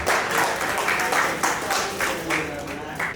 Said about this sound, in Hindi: ये काफी है, तालियां बजाइए।